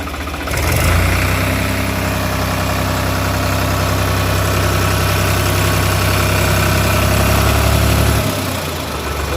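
A 2019 Case JX50 tractor diesel engine idles loud and close right after a kick start, a steady low throbbing drone that holds evenly for about seven seconds before cutting off abruptly.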